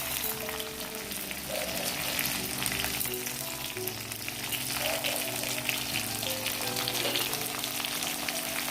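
Urad dal and coriander seeds frying in a pan for roasted chammanthi, a steady close sizzle and crackle that continues throughout without talk.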